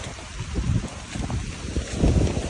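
Strong wind gusting hours before Hurricane Milton, a steady rough roar buffeting the microphone with low rumbling surges throughout, and no voices.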